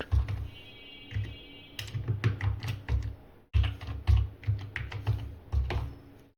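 Rapid keystrokes on a computer keyboard while entering a password during a Red Hat Enterprise Linux 10 install in VMware Workstation Pro, close and steady in short bursts with a brief pause midway, no talking.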